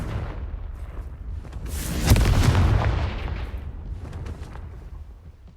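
Confringo fire-spell blasts in the Hogwarts Legacy video game: a rumbling, booming explosion swells to a loud peak midway and trails off into crackling debris and lingering low roar.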